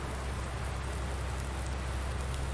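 Steady rain hisses evenly on surfaces in the farming game Landwirtschafts-Simulator 19, a continuous, moderately loud wash of drops with no voices.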